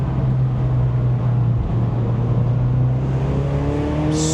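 A car engine climbs in pitch as the driver accelerates out of a corner, a loud, steady, close drone that rises smoothly throughout.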